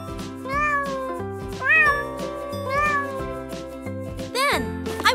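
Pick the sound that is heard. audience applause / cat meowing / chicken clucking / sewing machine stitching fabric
cat meowing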